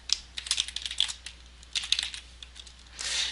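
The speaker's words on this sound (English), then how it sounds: "Then we could type in a query." Keys clatter on a computer keyboard as a SQL query is typed into SQL Server Management Studio, quick irregular bursts of clicks with short pauses between them, close and alone.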